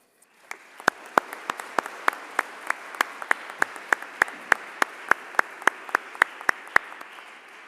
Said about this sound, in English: I ask you an applause for that